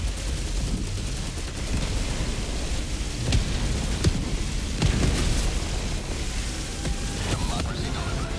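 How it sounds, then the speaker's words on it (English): Orbital barrage in Helldivers 2 pounds nearby as a dense, continuous roar of repeated explosions and sharp impact cracks, rumbling steadily throughout with heavy low booms scattered across the stretch. "Orbital barrage incoming. Stand clear."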